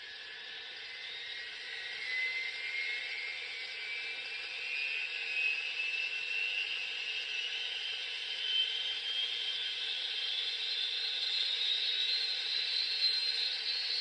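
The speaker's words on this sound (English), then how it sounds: "the B unit is the one that has the turbine sounds in it" An HO scale Union Pacific GTEL model locomotive's B unit plays a steady turbine whine that rises slowly in pitch over a soft airy hiss, even and continuous with no talk.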